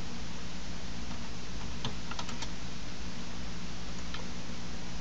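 A handful of quick keystrokes on a computer keyboard, faint clicks in a short cluster over a steady background hiss.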